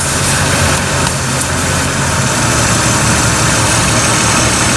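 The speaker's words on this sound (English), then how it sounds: "You'll be able to hear the engine." A Jeep XJ engine idles steadily with a loud, continuous low rumble and vibration, running alone without any talk over it.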